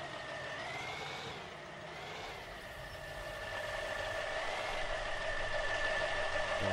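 A heavy Chevy truck engine idles and pulls away under light throttle, a steady near rumble that swells slightly toward the end, with a faint high whine running alongside.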